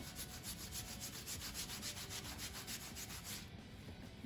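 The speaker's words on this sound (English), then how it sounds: "Maybe I should try to scrub a little bit harder, maybe." A Cricut cutting mat is scrubbed with a baby wipe in quick, rhythmic rubbing strokes, a soft swishing friction that runs steadily and then stops near the end.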